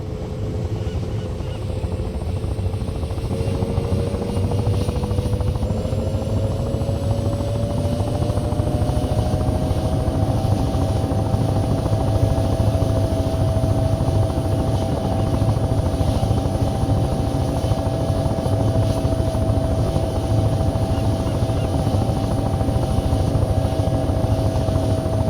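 A helicopter engine drones steadily and loudly throughout in the retro flight sim Take on Helicopters, a dense rotor rumble with a whining tone that climbs slightly in pitch early on, then holds even.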